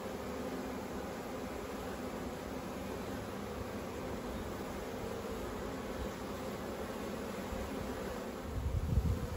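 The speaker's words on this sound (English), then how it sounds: "I'll shake all the bees off this out of this honey super" Honey bees buzz in a continuous, even drone as they are shaken out of a honey super during a beehive inspection, with a soft thump near the end.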